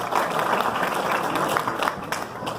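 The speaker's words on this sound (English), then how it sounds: "give yourself a round of applause for coming out tonight" An evening event crowd applauds, producing a dense, steady wash of clapping that sustains throughout without pause.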